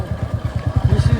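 A motorcycle rides over road humps on the way up Madhugiri hill, its engine thumping in fast, even low pulses that grow slightly louder, close and continuous.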